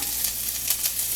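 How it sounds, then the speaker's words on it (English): Shallot and garlic fry in a hot pan for fried rice, giving a loud, steady crackling sizzle with small pops throughout and no voices over it. "So we're going to take our shallot and our garlic, toss it in there, let it start frying up."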